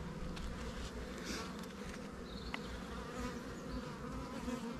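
Honey bees buzz continuously during a spring beehive inspection, a dense, steady hum of many insects with occasional individual bees passing closer, fairly quiet overall and with no speech.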